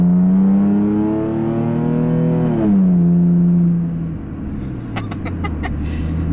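A Nissan 350Z engine revs up loudly and climbs in pitch, then drops as the driver shifts, its exhaust rumbling steadily afterward.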